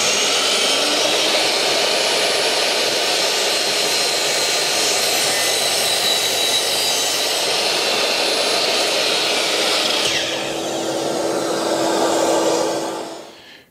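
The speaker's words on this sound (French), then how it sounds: "on démarre la machine, on attend qu'elle ait atteint sa vitesse de rotation" A radial arm saw running at full speed, a loud steady whining roar that holds, shifts in tone near the end as it cuts, then winds down abruptly.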